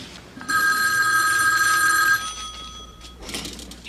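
A telephone bell rings loudly in a home for about a second and a half, a steady electronic trill that stops abruptly, followed by a brief softer burst of another sound near the end.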